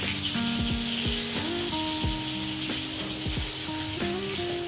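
Oil sizzling hard in a pan as chopped onions are added, a dense continuous hiss with crackling pops and faint tonal hum throughout.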